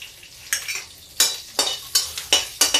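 Cumin seeds crackle in hot oil for a moong dal tadka, while quick, regular spatula scrapes and stirs in the pan come every half second or so over a faint sizzle, with no voices.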